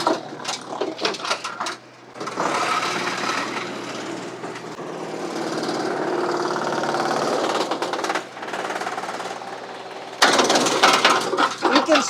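A WoodMaxx MX 8600 wood chipper driven by a compact tractor runs loudly with a constant mechanical roar and rattling chipping, rising in bursts as material feeds in. A voice speaks over it at the start.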